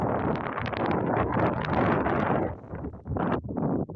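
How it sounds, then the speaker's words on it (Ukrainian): Strong wind buffets the microphone in loud, rushing gusts that rise and dip unevenly. "Тут вітер такий."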